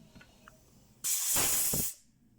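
A single loud burst of compressed air, about a second long, hisses sharply against a Husqvarna 353 chainsaw carburetor, with quiet small clicks just before.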